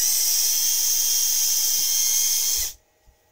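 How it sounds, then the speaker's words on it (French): A power drill bores steadily into an Associated MT8 differential, a loud high-pitched whine held for about two and a half seconds before cutting off abruptly into near silence. "je l'ouvre à la perceuse"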